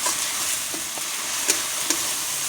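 Spice paste for a bhola fish curry stir-fried in oil, with a steady broadband sizzle and a few sharp scrape-and-stir clicks from the spoon, close and continuous with no voices.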